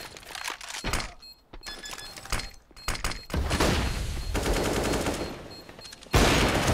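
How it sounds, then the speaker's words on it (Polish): Bursts of rapid gunfire crackle in quick volleys in a Counter-Strike match at DreamHack, with sharp cracks and a heavier sustained barrage toward the end, loud and close. "ten strzał niecelny od Snacksa"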